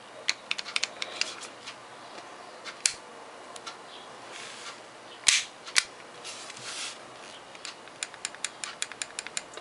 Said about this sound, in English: Let's cock it. Safety up. Won't fire.